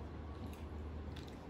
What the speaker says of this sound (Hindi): चबाओ चबाओ चबाओ चबाओ चबाओ। क्या आवाज है यार